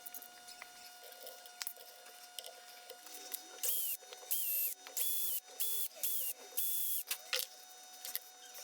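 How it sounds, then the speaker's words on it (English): Gotoh locking tuners being fitted onto a guitar, with close clicks and small mechanical taps, then a run of short high-pitched squeaking, ratcheting bursts as parts are turned, with no talking. "The next step is to install the Gotoh locking tuners."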